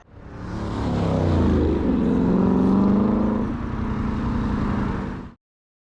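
A big V8 car with a loud exhaust idles close by at a traffic light, a steady deep rumble that swells and then settles into a lower drone for about five seconds before cutting off abruptly.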